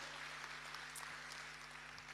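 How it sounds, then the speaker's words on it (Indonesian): A church congregation claps at a final Sunday Christmas-season service, a faint, distant wash of steady hand-clapping over a low electrical hum, with no voices. "Boleh kita kasih tepuk tangan yang paling meriah?"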